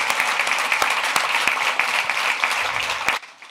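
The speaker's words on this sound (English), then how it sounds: "let's first give her a big round of applause for coming" A crowd applauds steadily, dense clapping filling the room for about three seconds before it abruptly cuts off into near silence.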